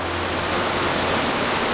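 Waterfall at Forks of the Credit, a constant dense roar of falling water, loud and steady with no pauses or voices.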